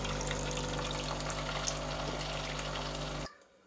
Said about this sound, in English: I'm going to hit this button here. And that will flush all of the water through and clean out that